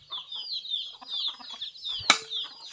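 Free-ranging farm chickens cluck and chatter continuously, close by, with a sudden burst of wing flapping near the end. No one speaks.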